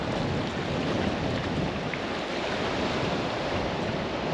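Cold river rapids on the Ambler River roar and churn through a narrow swirling chute, a dense steady wash of rushing water filling the whole clip with no voices.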